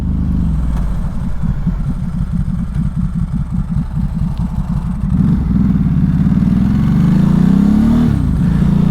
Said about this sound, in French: Le son du moteur est incroyable.